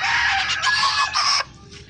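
Broiler chickens on a farm cluck loudly up close, with a rooster's crowing call rising through the squawks before the sound drops off abruptly, no one talking.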